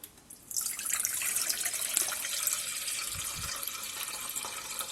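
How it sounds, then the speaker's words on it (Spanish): Water pours steadily from a tap into a cooking pot, a continuous splashing rush that starts abruptly and stays close and fairly loud throughout. "Y ahora en una cazuela voy a poner agua."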